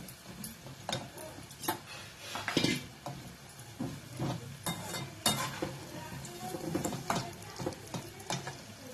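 Cutlets frying in a pan over raised gas heat give off a steady sizzle, broken by scattered clinks and scrapes of a utensil against the pan, close and fairly loud, with no talk.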